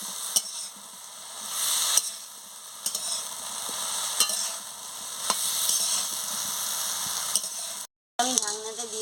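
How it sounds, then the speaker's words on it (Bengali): Vegetables with turmeric and chili powder, for a Bengali greens-and-prawn dish, are stir-fried in a pan: a steady close sizzle broken by repeated scraping clinks of the spatula, with a brief pause near the end. "দিয়ে ভালো করে আনাজটাকে কষিয়ে নিচ্ছি"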